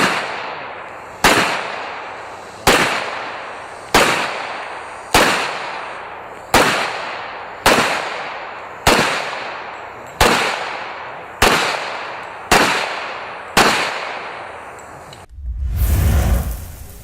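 Gunfire from a fast straight-ahead shooting drill: about eleven loud, sharp shots at a steady pace, each with a short decaying echo, followed by a low rumbling whoosh at the end.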